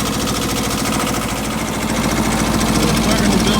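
A diesel engine idles steadily while warming up after a cold start in snowy weather, with a loud, even mechanical chug and clatter running without break.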